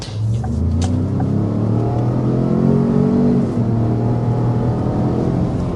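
A 2025 Ford Expedition / Lincoln Navigator accelerating hard to 60, its engine a loud, continuous droning rumble with rising pitch and a brief shift dip midway, heard up close from inside without talk.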